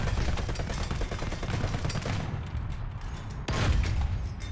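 Tank cannon and machine-gun fire in War Thunder, a dense run of rapid shots over a low rumble with a heavier blast near the end, loud and continuous.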